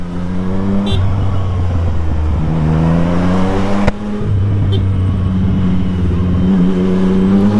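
A Yamaha MT-09 SP motorcycle fitted with a Tiger aftermarket exhaust revs on the road, its deep harmonic engine note rising and dropping through several throttle blips and gear shifts, loud and close with wind noise.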